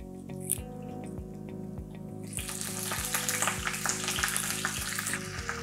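Garlic and then spinach leaves sizzle in hot oil in a pan, with a steady crackling hiss that grows louder and denser partway through, over a low rhythmic background of pulsing music.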